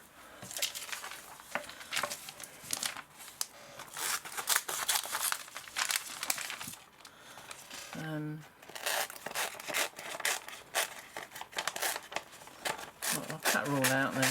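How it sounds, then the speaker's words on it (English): Scissors snip through a magazine page to cut out a picture of a bunny girl, producing a busy run of close crisp cuts and paper crinkling that goes on steadily throughout, with a voice talking over part of it. "just use a pair of scissors."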